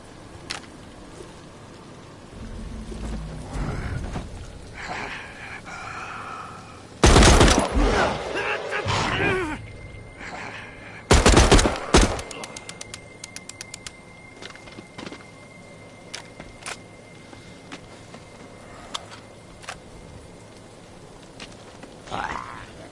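Gunfire from a gun in the video game The Walking Dead: Saints & Sinners, with loud rapid bursts around the middle, then a string of quicker single shots fading into scattered quieter cracks.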